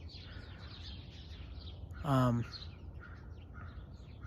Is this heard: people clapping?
no